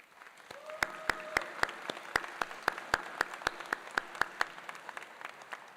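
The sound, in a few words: audience applause at ceremony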